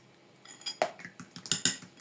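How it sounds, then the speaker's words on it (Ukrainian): Quick light clinking of a fork against a bowl, several rapid taps in a short burst of whisking by hand, close and fairly quiet. "просто виделочкою ось так трішечки і все"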